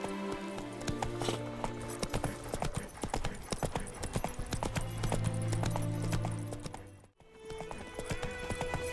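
Hooves gallop in a fast, steady clip-clop as a horse runs in The Witcher 3, loud and continuous with game music underneath and a brief drop near the end.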